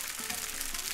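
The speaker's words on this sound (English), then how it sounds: "now listen to that. That's the sizzle we're looking for." Sausage sizzles in a hot pan as tomato sauce is ladled in, a dense steady hiss and crackle, close and even throughout the brief moment.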